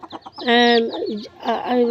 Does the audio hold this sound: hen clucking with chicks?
yes